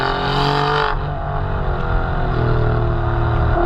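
An Alfa Romeo Giulia Quadrifoglio accelerating hard with a flappy-paddle gearbox, its engine note loud and close, a continuous rising drone with a brief gearshift-like change near the start.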